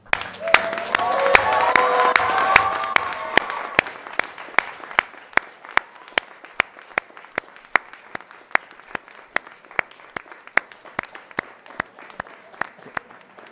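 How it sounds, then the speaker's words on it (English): Standing ovation at a college graduation ceremony: a loud, full crowd of clapping and cheering that swells for about three seconds, then thins and fades, followed by a steady train of sharp, evenly spaced clicks. "join with me in a standing ovation for all of"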